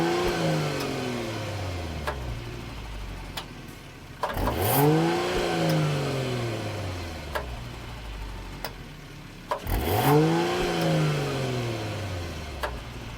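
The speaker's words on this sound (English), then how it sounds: "go ahead and listen to some of the exhaust notes on this vehicle" A 2023 Mercedes-Benz S500 with a 3-liter turbocharged six-cylinder revs outside the car, two sharp blips each rising then falling away as the exhaust note fades back to a steady idle, heard up close.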